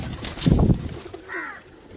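A low pigeon coo close by, followed by a brief fainter call, with light background noise.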